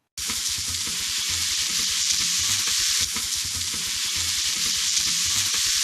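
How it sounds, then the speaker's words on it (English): Bacon sizzling in a pan that was started cold, a steady loud crackling hiss with dense popping spatter that carries on without a break. "That way, the fat renders slowly and the bacon gets perfectly crispy."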